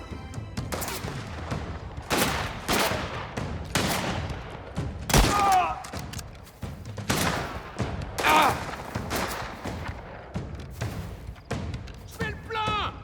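Gunfire rattles through a firefight in the video game Mafia: The Old Country, with repeated loud shots and bursts in uneven clusters, mixed with thuds and impacts, while voices talk over the action.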